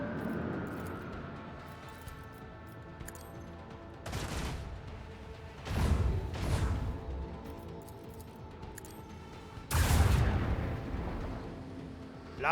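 Torpedoes launched during ship combat in the Rogue Trader video game, heard as several deep, booming bursts spaced a few seconds apart over a low droning background.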